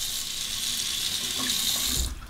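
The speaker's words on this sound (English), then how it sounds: "Warm the razor under the hot water." Hot water runs steadily from a tap over a razor as it is warmed, a close, continuous splashing hiss that cuts off abruptly near the end.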